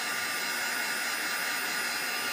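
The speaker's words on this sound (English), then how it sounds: "This is a Marby Yoshida heat gun, which I just traded out my old one, and everybody told me this one was much quieter" A Marby Yoshida heat gun runs steadily, a constant close airy whoosh with a high whine, loud and unbroken with no talk.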